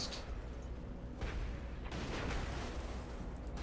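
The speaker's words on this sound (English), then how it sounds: "my shotgun cannon is pretty awesome" Two heavy blasts from a shotgun cannon in the mech combat game Brigador, the first booming about a second in and the second larger blast rolling on through the rest of the clip over a constant low rumble of battle.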